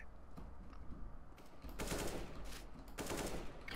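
Bursts of automatic gunfire in the video game Counter-Strike come in two louder volleys over a quieter, steady spray of shots.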